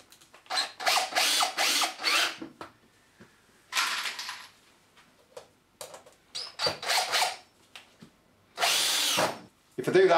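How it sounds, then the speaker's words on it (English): A power drill drives two screws into a wooden block, with several short whirring bursts of varying length separated by quiet gaps, close and clear. "And then I'm going to put 2 screws in."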